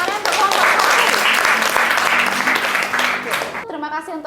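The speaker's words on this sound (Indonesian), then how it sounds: "Oke, tepuk tangan untuk kelompok" Loud, dense classroom applause for a student group that has just finished a presentation, sustained for over three seconds before stopping abruptly, followed by a brief voice.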